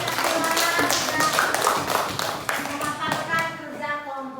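A classroom of students claps hands after a group presentation in an Islamic religious studies lesson, a brisk, fairly close patter of many claps that fades toward the end, with voices talking underneath.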